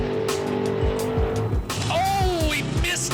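A race car laps a track at a Spring Fling event in Benson, NC, its engine revving and rising in pitch with tire squeal, while an announcer talks over the loud, close roar.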